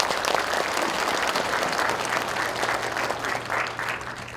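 Audience applause at a county meeting in a Gurye arts hall, broad sustained clapping from a seated crowd, steady and fairly loud, with a low hum underneath and no talking over it.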